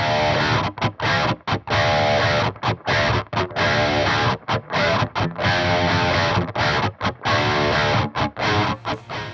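Loud, chunky distorted electric guitar riffs in a metal style, recorded with an sE small-diaphragm condenser microphone, palm-muted chugs broken by sharp stops and short gaps.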